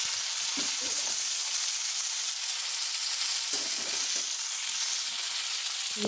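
Potatoes frying in a pan with salt and turmeric give a quiet, steady hiss of oil, with a few brief clusters of stirring and scraping sounds.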